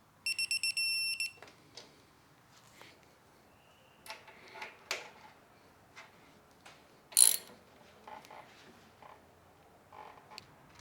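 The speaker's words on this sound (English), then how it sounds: "this M10 steer nut I'm torquing down to 34 foot-pounds" A torque wrench tightens an M10 steering-stem nut on a Yamaha YSR50 billet triple tree to 34 foot-pounds: a quick electronic beeping at the start, then sparse ratchet clicks and metallic taps, with one sharp click peak.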